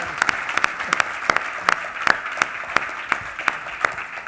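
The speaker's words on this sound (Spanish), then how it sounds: "No, el aplauso, dale, dale." A small audience claps after a startup growth-hacking talk, with sparse, uneven individual claps and a few sharper ones standing out against a quiet room.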